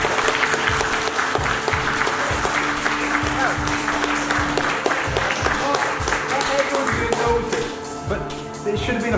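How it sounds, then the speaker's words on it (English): A crowd at a taekwondo black belt ceremony gives a sustained round of applause, dense and steady claps with some murmured voices, tapering slightly toward the end. "Good round of applause, everyone."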